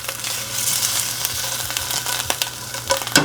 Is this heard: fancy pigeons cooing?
no